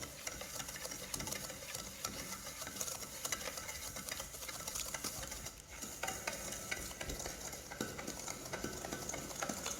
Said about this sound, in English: this we will do a creaming, mixing of butter and sugar together